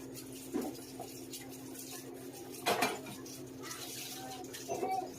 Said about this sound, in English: what I'm going to be doing is washing dishes